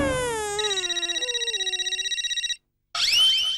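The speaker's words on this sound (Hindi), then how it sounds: "क्या टाइम पे मेहता साहब ने फोन किया है" An electronic telephone ringtone plays, a pulsing warbling tone that rises and falls steadily for a couple of seconds, then breaks off briefly before another bright tone sounds.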